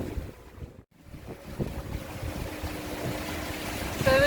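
Wind rushes steadily across a sailboat under way at sea, with water washing along the hull in a constant, moderately loud roar and no talking.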